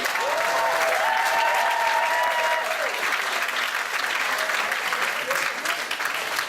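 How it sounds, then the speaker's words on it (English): Sustained audience applause at a community coffee house evening, dense and steady, with a tonal whistle or cheer riding over it near the start and voices mixed faintly into the clapping. "let's give them both a round of applause"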